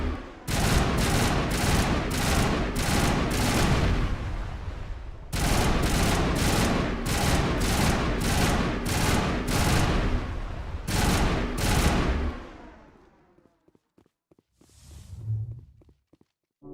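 Turret defenses open fire in Mass Effect with long sustained bursts of rapid automatic gunfire, broken by brief pauses, before the shooting tails off into near silence with a faint low rumble.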